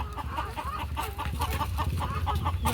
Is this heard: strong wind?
no